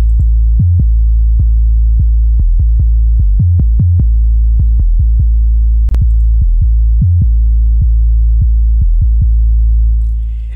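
Deep synth sub bass shaped with the iZotope Neutron 3 Sculptor module, playing a steady rhythmic pattern of short, punchy low notes that throb like a heartbeat, with no voices.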